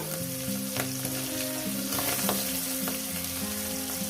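Mourala fish fry in oil in a pan with a steady, close crackling sizzle, punctuated by occasional sharper pops and the light scrape of stirring throughout.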